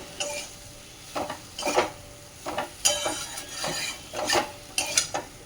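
Soybean chunks and potato get stirred and sautéed with spices in a pan: repeated scraping strokes of a spoon against metal come in uneven bursts over a soft background sizzle, close by and with no talking.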